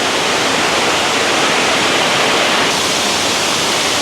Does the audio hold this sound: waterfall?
yes